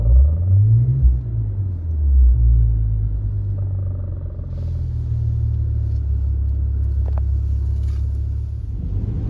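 Low, steady engine rumble from a 2024 Maserati Levante GT, heard up close with a deeper swell near the start before settling into a continuous drone, with no talking.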